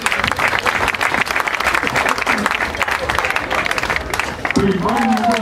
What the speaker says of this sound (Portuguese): Uma salva de palmas para a Arca,